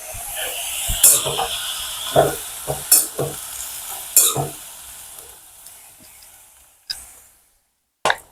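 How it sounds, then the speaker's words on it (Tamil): Snake gourd frying in oil in a village kitchen, sizzling steadily while a spoon scrapes and stirs in repeated sharp strokes, fading to quiet near the end with a couple of final clanks. "கொஞ்சம் இப்படி எண்ணெயில அவிய விட்டுட்டு இளநீய விடுவோம்"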